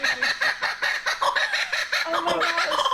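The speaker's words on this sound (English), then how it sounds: "the bird's laughing at me" A bird gives a loud, close territorial laughing call, a rapid rising and falling run of harsh cackling notes that goes on for several seconds without a break.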